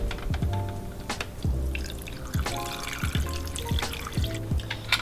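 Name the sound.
water poured over pork bones in an Instant Pot pressure cooker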